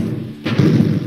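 Tank cannon fire in the Holo Tankz game: a single heavy thud-like boom lands partway through, with low rumble sustaining after it, fairly loud and alone.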